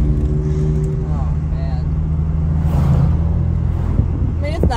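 A BMW car engine rumbles steadily and loudly at close range, with a slight rise in revs, while voices are heard nearby.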